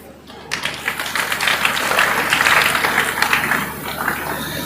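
An audience at an annual accountants' seminar breaks into applause, a dense, sustained wash of clapping that swells after a brief quiet start and holds steady.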